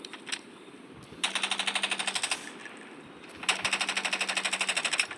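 Rapid automatic gunfire from a Roblox shooting video game, two sustained bursts of evenly spaced shots lasting about a second each, loud and close, separated by a quieter pause.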